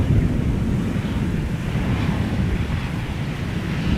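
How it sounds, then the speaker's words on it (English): Strong wind buffets an outdoor microphone at Amsterdam Schiphol Airport near the Polderbaan runway, a loud, continuous low rumble with no break or pause. "Wind is definitely not slowing down"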